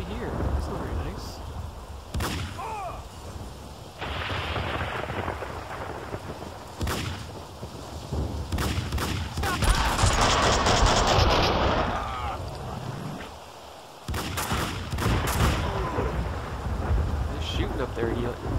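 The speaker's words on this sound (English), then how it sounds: "They're shooting up there" Gunfire in the video game Max Payne 2: sharp shots crack out at irregular intervals, with a heavier rumbling blast in the middle, and voices are heard at times.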